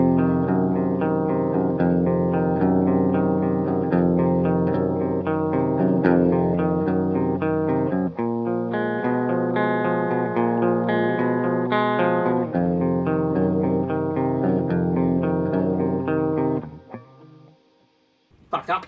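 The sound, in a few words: guitar clean tones through an Orange Super Crush 100 amp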